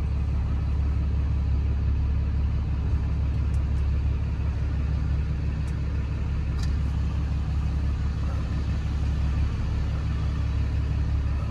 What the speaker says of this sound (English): now I gotta pull this beast into the garage